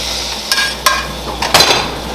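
Portobello mushrooms being basted in a tilted pan for a grilled vegetarian burger, a loud close sizzle broken by a few sharp bursts of spitting and spoon scrapes, with no talking.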